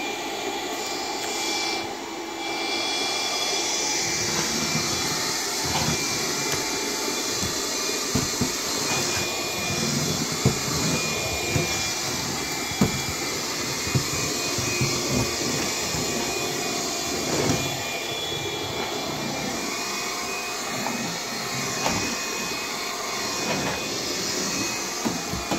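A household vacuum cleaner runs continuously, a loud rushing motor drone topped by a thin, steady high-pitched whine, with occasional clicks and bumps as it moves.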